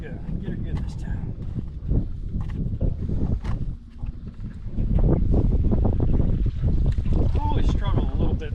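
Gusty wind buffets the microphone while a bait net is cast from a boat in the evening, a loud rumbling roar under scattered knocks and splashes, with a person talking at times.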